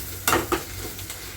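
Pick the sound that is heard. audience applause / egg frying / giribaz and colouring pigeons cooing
egg frying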